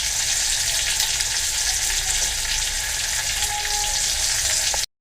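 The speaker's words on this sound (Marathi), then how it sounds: "व्यवस्थित मी आता परतून घेणार आहे तेलामध्ये" Small stuffed brinjals frying in hot oil on a tawa, giving a loud, steady, dense sizzle and crackle that runs continuously and stops abruptly at the end.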